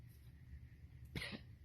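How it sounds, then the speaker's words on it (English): A single sick person's cough bursts out loud and close after a stretch of quiet room hum. "the more I talk, the more it makes me want to cough"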